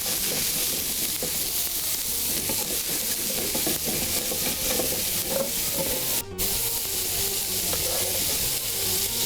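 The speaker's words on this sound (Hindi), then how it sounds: "आपने इसमें कबाब डालने हैं बर्तन में" Seekh kebabs fry in a hot pan with a steady, dense sizzle and hiss that lasts throughout, close up and without any voices.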